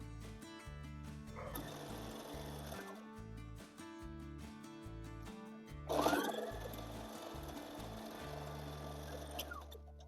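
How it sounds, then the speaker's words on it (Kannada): A sewing machine stitches canvas for a long gown with a steady, rapid mechanical thumping rhythm that runs throughout, close and moderately quiet, with a brief louder rustle of fabric partway through. "ರೈಟ್ ಸೈಡಿಗೆ ಈ ಥರ ಇಟ್ಬಿಟ್ಟು ಕ್ಯಾನ್ವಾಸ್ನ ಸ್ಟಿಚ್ ಮಾಡ್ಕೋಬೇಕು."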